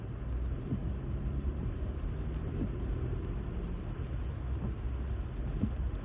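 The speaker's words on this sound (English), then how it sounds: "The gifts of rain from God." Rain falls over downtown Baltimore in the early morning, a constant dense wash of noise over a low rumble that may be distant thunder.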